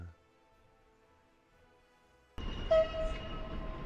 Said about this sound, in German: Ja, da ist der Zug.